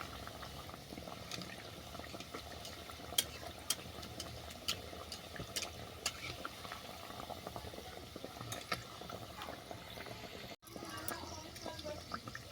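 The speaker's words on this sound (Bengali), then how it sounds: "টগরিটা ভাজার সময় খেয়াল রাখবে যেন টগরিটা ভালো করে বেশ কড়া করে ভাজা হয়।" A bread cup fries in hot oil, giving a faint, steady bubbling hiss with scattered small pops throughout.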